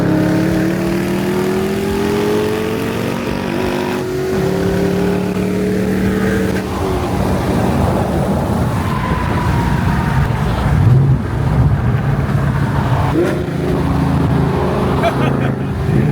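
A modified 750 wheel-horsepower Ford Mustang Mach 1 engine climbs in pitch through several gears, rising and dropping as it shifts, loud and close from inside the cabin.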